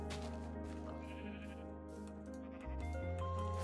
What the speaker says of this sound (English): I need the sheep, obviously, for wool, for carpets.